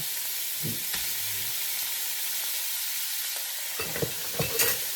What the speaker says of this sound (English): And if it fries, guess what? Everything's ready.